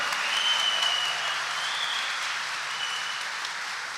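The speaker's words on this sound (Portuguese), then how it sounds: "brada uma salva de palmas e um grito de amor" A church congregation applauds during Mass, producing a dense, steady wash of clapping from many people that holds at an even loudness for the whole stretch.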